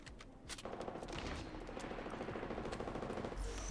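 Gunfire in the video game Apex Legends, with a rapid, sustained burst of automatic fire that runs loud and dense for several seconds with no pause.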